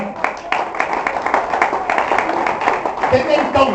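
A church congregation breaks into applause during a pastor's sermon, a dense, continuous clatter of clapping hands heard close and loud, with a voice talking over it throughout.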